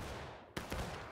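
Musket volley fire in the Civil War game War of Rights on the Washington Street map: loud broadband gunshot bursts cracking out in quick succession, with a dense ragged fusillade after about half a second.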